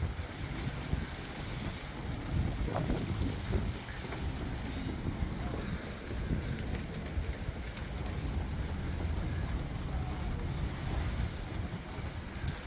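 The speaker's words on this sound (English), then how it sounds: "Well, this downpour has just come from nowhere." Sudden tropical downpour at a crowded boat anchorage off Grenada: steady, dense hiss of heavy rain drumming on surfaces, with a low rumble and gusting wind underneath, continuous and fairly close throughout.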